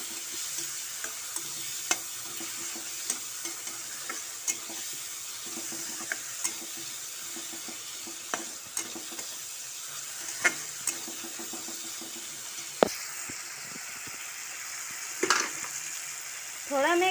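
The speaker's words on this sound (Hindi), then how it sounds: "इसमें मैंने पनीर मसाला ऐड नहीं किया क्योंकि अभी ख़त्म हो चुका था, तो मैंने जीरा पाउडर ऐड किया है यहाँ पर। मैं इसे अच्छी तरह से मिला लूँगी।" Tomato masala with cumin powder being stirred in a frying pan for paneer sabzi: a steady close sizzle runs throughout, with a spoon clinking against the pan at regular intervals.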